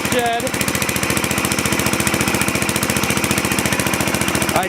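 A repowered Sears SS14 lawn tractor engine runs loud and close, its fast, even firing pulses hammering in a steady rhythm throughout with a faint squeak at the start.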